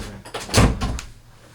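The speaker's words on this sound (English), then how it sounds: "Let me close this door." A door swings shut indoors with a single solid thud and a brief rattle of the latch, heard close and alone.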